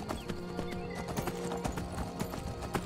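Rapid clip-clop of horse hooves in Skyrim, a quick steady gallop with a neigh mixed in, fairly close and continuous over faint game ambience.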